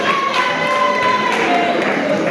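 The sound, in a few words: audience applause for an award winner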